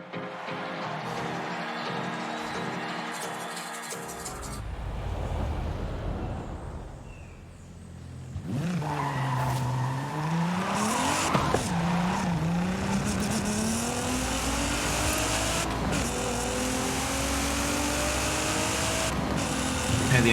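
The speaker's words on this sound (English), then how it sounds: "the engine sounds pretty nice with the upgraded exhaust" Car engine with an upgraded exhaust in the racing video game Forza Horizon 5, revving and accelerating through rising and falling tones with tire noise, loud and continuous after a brief quieter dip.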